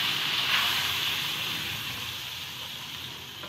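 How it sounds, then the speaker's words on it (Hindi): Half a tablespoon of flour toasting in melted butter in a pan gives a soft, even hiss that fades slightly over a few seconds, with no voices. "आधा खाने का चम्मच जो है मैदा डालकर थोड़ा सा इसे भून लेंगे"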